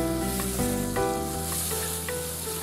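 Spice paste with chili powder fries in a pan for a hilsa fish dish, a continuous close sizzle with stirring, over a steady tonal hum.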